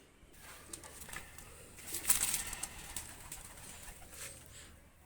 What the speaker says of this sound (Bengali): কাসুরি নর কবুতার দেখেন চোখটা মাশাল্লা লাল